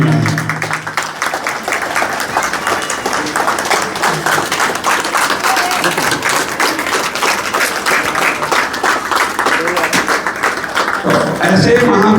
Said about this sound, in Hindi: आप लोग सम्मान के साथ एक बार खड़े होकर ताली जरूर बजाएं